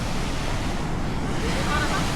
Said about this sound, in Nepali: त्यहाँ माथि पनि झरना छ, तल पनि झरना छ।